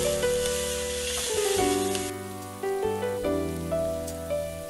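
Eggs frying in tomato sauce in a wok for a tomato and egg stir fry, a steady broadband sizzle running throughout, close and moderately loud, with background music tones layered over it.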